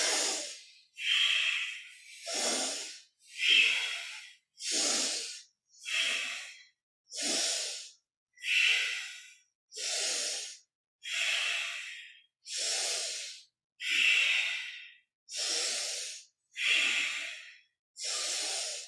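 Yoga breathing in and out through the nose at a moderate, even pace, about fifteen breathy nasal exhales and inhales in a steady rhythm, close and clear with no talking.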